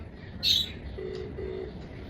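A mobile phone dials a number, giving two short, quiet keypad tones one after the other, preceded by a brief high chirp in an otherwise quiet room.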